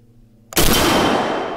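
A shotgun fires once while a red dot sight is zeroed at a range, a sudden loud blast after a near-silent moment, followed by a long ringing decay.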